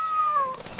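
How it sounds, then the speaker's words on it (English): A cat gives one clear, close meow, a gliding tone that slowly falls and fades, followed by a softer breathy tail. "It says meow and loves playing with a ball of yarn"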